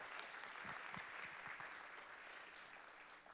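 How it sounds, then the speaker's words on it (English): Theater audience applauding steadily at a Shakespeare event, a dense wash of clapping that fades slightly toward the end, with a few lower thumps near the start. "Please have a round of applause."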